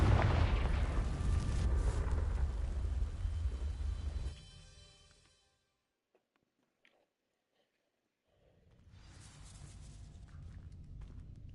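A Confringo fire spell explosion in Hogwarts Legacy, a loud deep rumbling blast that swells and fades into near silence, followed by a low ambient rumble rising again.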